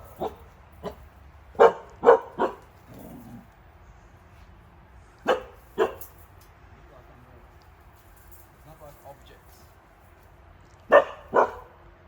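A dog barks indoors in short, sharp bursts, mostly pairs and a triplet, spread across an otherwise quiet room at fairly close range.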